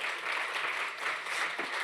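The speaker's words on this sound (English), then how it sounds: "let's give them an applause so they get the energy" A summit audience gives dense, even applause throughout, close and sustained without any break.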